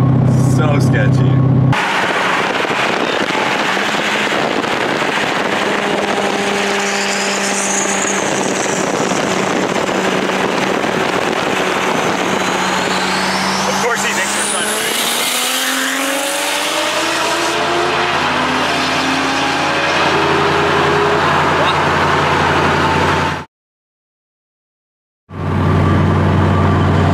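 Cars in a street race roar loudly and continuously, engine notes climbing and sweeping in pitch as they accelerate and pass, with voices mixed under the din before a brief cut to silence.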